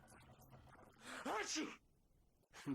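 A character in the video game Alan Wake sneezes once, a short close burst following a quick intake of breath, with a brief voice afterward.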